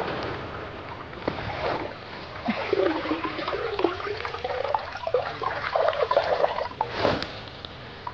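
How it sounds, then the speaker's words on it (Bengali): Freshly washed grass lifted and strained out of water, with sloshing, dripping and splashing close by over several seconds. "এখন আমি ঘাসগুলো জল থেকে ছেঁকে নিচ্ছি"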